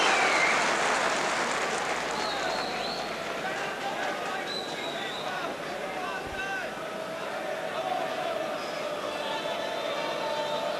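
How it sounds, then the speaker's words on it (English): A football stadium crowd at a 1980s Grimsby Town match against Wolves applauds in a steady, distant roar while a commentator talks over it. "Grimsby's football bringing a round of applause."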